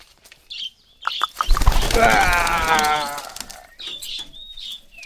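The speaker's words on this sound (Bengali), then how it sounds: "সব উপরে গিয়ে বসেছে পায়রা" A flock of pigeons bursts into flight in a rural village, a loud close flurry of flapping wings lasting about two seconds, with brief chirps and bird calls before and after.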